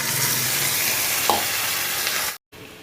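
Ginger, garlic, onion, green chili and tomato paste frying for a Bengali rohu fish curry, a loud, dense, continuous sizzle close up with a brief stir, cutting off abruptly near the end.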